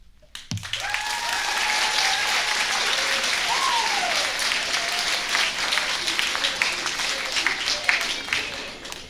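An audience at an eighth-grade celebration gives the student speakers a steady round of applause that swells quickly and holds for several seconds, with a brief tonal sound and faint voices running underneath.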